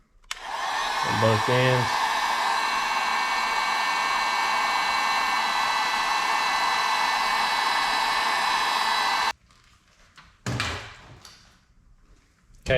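A heat gun shrinking heat shrink tubing onto a refurbished Honda K20A2 engine wiring harness, a loud steady blowing hiss running for about nine seconds before cutting off, followed by brief handling noises and a short spoken remark.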